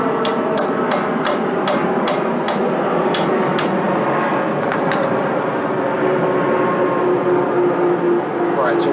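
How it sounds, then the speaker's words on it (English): Sharp metallic hammer blows drive a socket between the CV boot collar and ball joint bolt on a 2000-2006 Chevy GMC Suburban Tahoe hub, about a dozen quick strikes early then sparser hits over a steady background hum. "I hammered the socket in between the CV boot collar and that ball joint bolt."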